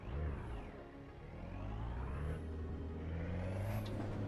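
A Fiat car engine in the Assetto Corsa EVO racing game, droning and rising and falling in pitch as it revs and shifts, steady and fairly loud with no talk over it.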